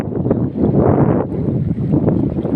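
Steady wind buffets the microphone by the sea, a dense, continuous rush of gusts at close range with no voices.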